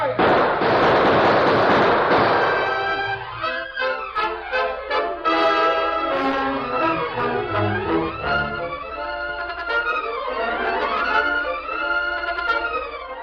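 A radio-drama shootout opens with a dense burst of overlapping gunshots and loud crackling, then the shots fade into a dramatic orchestral music sting that plays alone to the end.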